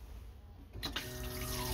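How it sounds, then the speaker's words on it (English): A toilet bowl in a 1996 Toyota Coaster motorhome flushes via a water pump, a sudden rush of running water starting after a quiet moment and continuing steadily, close by. "I just push down on that and it's got a water pump and it flushes the bowl"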